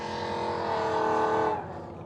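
A road-course racing motorcycle on an airstrip, its engine roaring loudly as it accelerates, then the pitch drops near the end as it shifts gear or eases off.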